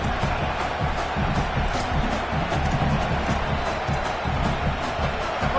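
A home crowd at a football game roars in a steady, dense wall of cheering that stays loud and continuous throughout.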